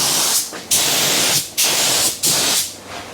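Spray gun hissing paint onto a 1967 Camaro body after three days of bodywork, in three long, loud bursts separated by short pauses, with no talking.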